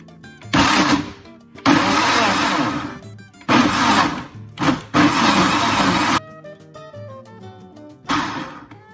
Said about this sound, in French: Il est important de super bien mixer pour qu'on n'ait plus de morceaux d'orange